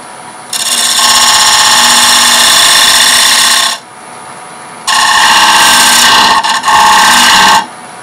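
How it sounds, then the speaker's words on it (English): A bowl gouge cuts into wood spinning on a lathe while beads are shaped, giving two sustained scraping, hissing passes of about three seconds each with a short pause between them. The sound is loud and close, with no talking. "Now then I'll come in here and eliminate this part with a bowl gouge."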